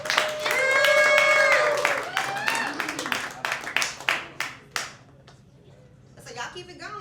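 A comedy club audience applauds and cheers as a comedian walks to the stage, a swell of clapping and whoops that thins into scattered individual claps before a voice takes over.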